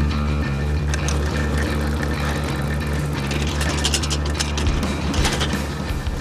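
Car driving over a musical singing road, tyres rumbling steadily while the grooves produce a faint, shifting series of tones beneath the continuous engine and road noise, with no one talking.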